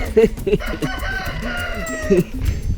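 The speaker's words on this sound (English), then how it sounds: "cockerels waking me up before 5" A rooster crows nearby in Madagascar in a long drawn-out call, with other fowl clucking around it and some background noise.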